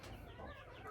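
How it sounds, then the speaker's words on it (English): A small, funny-looking young chicken clucks softly in a garden and animal setting, a faint, brief run of low murmuring calls close by with no talk over it. "Look at this funny looking little chicken."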